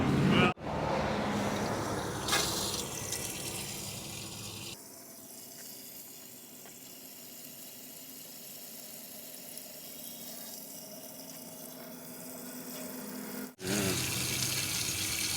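Fuel pours steadily into the tank of an abandoned 1957 Oldsmobile Rocket, a continuous gurgling, sloshing flow heard close, with the car's engine noise loud at the start and end.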